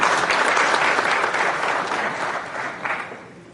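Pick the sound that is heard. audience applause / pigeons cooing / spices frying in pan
audience applause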